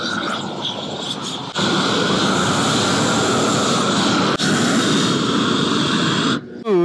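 A roofing propane torch roars steadily while burning the plastic film off torch-down rubber on a metal flat roof, a loud continuous hissing rush that cuts briefly and resumes.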